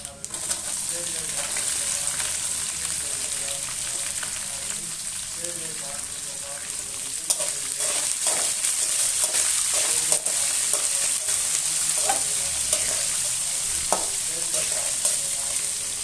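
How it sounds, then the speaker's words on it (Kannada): Onion and green chillies fry and get stirred in a pan for an avalakki dish, a continuous crackling sizzle broken by scraping strokes of a spoon, close and fairly loud. "ಇವಾಗ ನಾನು ಈರುಳ್ಳಿ ಹಸಿಮೆಣಸಿನ್ಕಾಯಿ ಸೇರಿಸ್ತೀನಿ"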